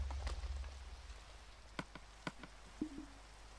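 Rain falls in a Minecraft survival game as a faint, steady hiss of drops on surfaces, joined by a few sharp clicks and a brief low tone near the end.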